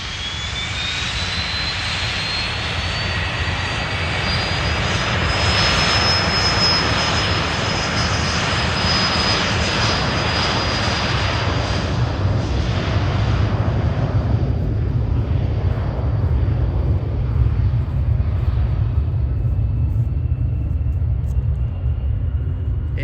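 A Learjet 60 private jet taking off from Fort Lauderdale, a loud steady jet engine roar with a rising whine that swells and then fades as the aircraft departs.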